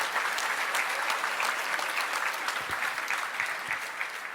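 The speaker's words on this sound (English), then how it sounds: "A round of applause for our two nominees." A hall full of people applauds two nominees at the 2023 law enforcement officer awards ceremony, a dense, steady roar of clapping that carries at even loudness for the whole stretch.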